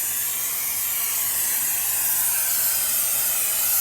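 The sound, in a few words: spraying cleaner over a car engine bay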